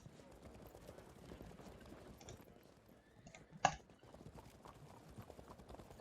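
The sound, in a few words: horses of light javelin cavalry in a video game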